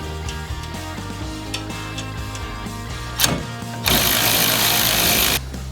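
A castle nut being tightened onto a Jeep Wrangler tie rod end with a power tool, a steady mechanical whir under a constant hum, then a loud harsh buzzing burst near the end.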